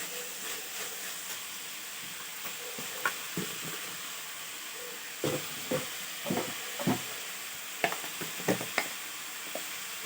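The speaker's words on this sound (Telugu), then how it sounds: "ఇప్పుడు టమాటా వేసి మంచిగా కలుపుకోవాలి." Onion and tomato sizzle steadily in a pan while a spoon scrapes and stirs in irregular clacks, close up with no talking.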